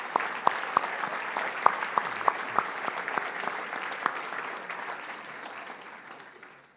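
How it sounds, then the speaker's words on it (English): Guests at a sports awards dinner applaud in a large hall, a broad wash of clapping with a few sharper nearby claps early on, gradually fading toward the end. "could we give them a big round of applause?"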